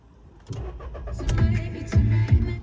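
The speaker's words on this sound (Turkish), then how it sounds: "Şöyle yavaştan marşımıza basalım." A 2013 VW Up with the 1.0 MPI 60 PS petrol engine cranks and catches, then settles into a quiet, smooth idle heard from inside the small car.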